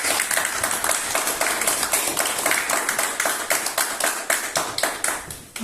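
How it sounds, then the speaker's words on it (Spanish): A small church congregation at a Sunday home worship service claps in a steady, rhythmic beat, each clap sharp and close, keeping a regular pulse for several seconds. "Den un aplauso al Señor"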